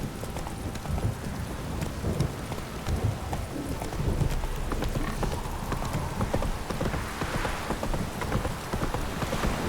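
Horse hooves clip-clop steadily at a gallop in the game Witcher 3, loud and continuous for the whole stretch, with rain pattering on surfaces around and a brief whinny.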